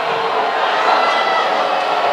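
Volleyball arena crowd at a Hawaii versus UC Irvine men's match, a sustained broad murmur of many voices with scattered calls, growing restless during a long officiating delay.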